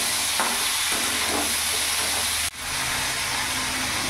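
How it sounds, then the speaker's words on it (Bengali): Cauliflower seasoned with salt and turmeric fries in a pan, hissing loudly and continuously with a sharp, brief drop midway before the sizzle resumes, and no one speaks. "এখানে ফুলকপিগুলো ভাজা হোক"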